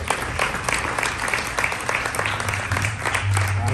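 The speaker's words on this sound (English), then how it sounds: "can you give another round of applause?" Church congregation applauding in a Lancaster, California worship service, a steady wash of many hands clapping at close range, with a low hum of music or organ swelling underneath toward the end.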